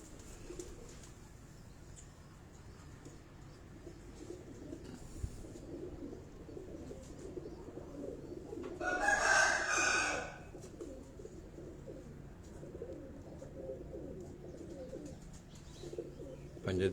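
Pigeons coo softly in a rooftop loft on Chak Beli Road, Rawat, a low, faint, steady murmur, broken midway by a short burst of rustling, like wings flapping or birds being handled.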